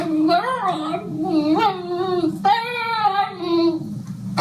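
A Basenji whines and yodels in a string of rising, warbling cries, each a second or so long, close and loud, with no one talking.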